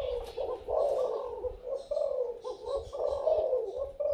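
Thai spotted doves in a home breeding cage give repeated soft, low cooing phrases in a steady rhythm, close and clear, with no talk.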